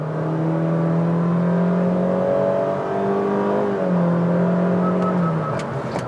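A car, a top-trim 2023 Hyundai HB20S or Honda City, accelerates toward a truck during a frontal collision-warning test, its engine drone rising steadily in pitch across several gear stages, close and continuous with no talk.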